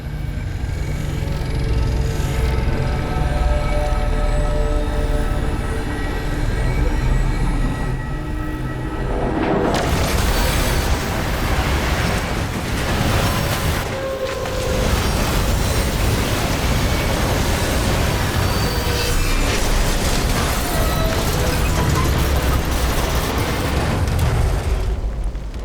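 A primitive train in the Destiny 2 game rumbles loudly and continuously, with a heavy roar that swells sharply partway through as it passes close, thick low-end rumble throughout.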